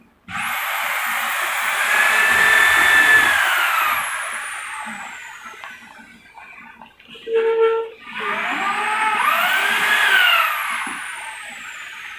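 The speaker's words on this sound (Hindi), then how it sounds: "ये अंकल बाकी अब सारे पेच जोड़े हैं ड्रिल से इसको फ्रेम को पक्का करने के लिए" A power drill drives screws into a wooden cupboard frame, giving two long whining runs whose pitch climbs and falls, separated by a short sharper burst, loud and close with no speech.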